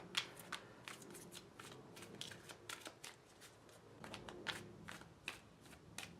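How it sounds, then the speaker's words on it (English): Quick riffle shuffles of a deck of cards, a run of crisp papery bursts in rapid succession, close up and fairly quiet, with no talking. "I've been shuffling the cards, so I'm not going to shuffle them too much more."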